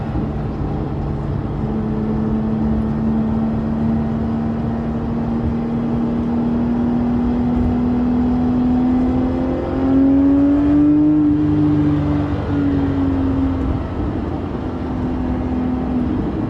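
Porsche 997.2 GT3 RS on a drive, a steady engine drone with a gradual rise and fall in pitch as it speeds up briefly, under a constant road and wind rumble, no voices.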